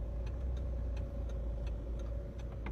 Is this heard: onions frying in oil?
no